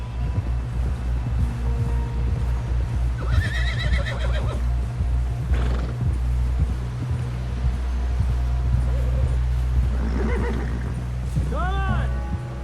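A horse in Red Dead Redemption 2 neighs loudly, with hoof falls and a rising whinny toward the end, over a dense game soundscape with voices present.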